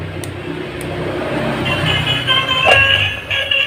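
A toy bus blares its "telolet" horn, a bright warbling melodic tone that rises in over a continuous motor-like hum, fairly loud and close with no talking.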